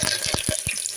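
Mustard seeds, cumin and curry leaves hit hot oil for a Maharashtrian misal, giving a steady broadband sizzle with a few short low thuds or stirs spaced through the second, close and continuous with no talking.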